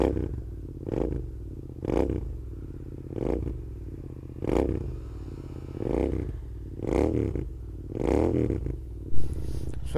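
Several motorcycles warm up on a cold morning in Maredumilli, their engines idling close by with a rumble that swells in repeated revving pulses about once a second.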